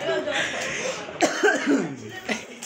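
Several short, harsh coughs burst out close by in a cluster, with a quick stifled quality, mixed in with voices talking and a bit of laughter around them.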